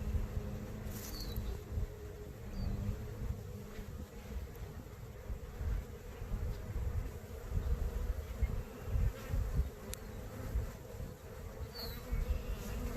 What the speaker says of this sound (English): I'm really throwing these bees off while they're working.